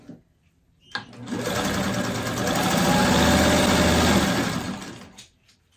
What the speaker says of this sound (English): As always, I'm sewing on my vintage Singer 1591.